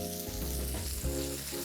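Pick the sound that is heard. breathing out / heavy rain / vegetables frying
vegetables frying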